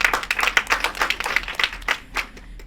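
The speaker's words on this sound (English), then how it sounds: "Big clap for yourself." Audience clapping at a sickle cell advocacy conference in Sydney, a loud, close run of distinct claps from a modest crowd, rhythmic at first and thinning out toward the end.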